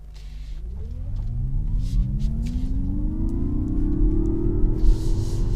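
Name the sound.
Mazda MX-30 electric car driving on road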